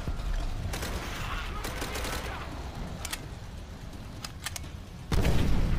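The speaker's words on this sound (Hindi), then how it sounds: "अबे बम किसने मार दिया?" Battle in the video game Call of Duty: World at War: dense gunfire crackles continuously with sharp shots scattered throughout, then a heavy bomb explosion booms near the end.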